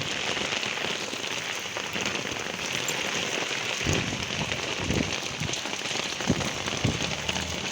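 Heavy rain pounds steadily on surfaces on a rainy day out travelling by vehicle, a loud dense patter with occasional heavier thumps and no voices.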